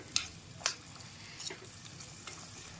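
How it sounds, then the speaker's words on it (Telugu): Cashews and coconut pieces fry gently in a pan, a faint low sizzle with a few sharp clicks of a spoon against the pan. "ఆ కొబ్బరి ముక్కల్లోనే ఒక మూడు స్పూన్లకి జీడిపప్పు కూడా వేసేసుకుందామండి ఇవి బాగా దోరగా వేగాలి"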